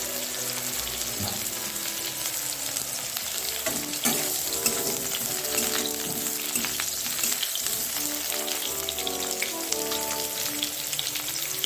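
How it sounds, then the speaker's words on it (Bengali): Cauliflower and potato pieces fry in mustard oil in a pan, giving a dense, constant crackling sizzle that stays close and even throughout, with no talk. "কপি আর আলুগুলো ভেজে তুলে নেব।"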